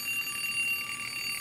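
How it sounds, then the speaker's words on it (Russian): A wristwatch alarm goes off, a thin, steady electronic beeping tone that is fairly quiet and continuous, heard alone without speech. "Внезапно у меня зазвонил будильник на часах."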